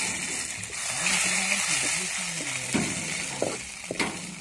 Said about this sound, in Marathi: तर आता आपलं खोबरं बी मस्त लाल झालेलं आहे.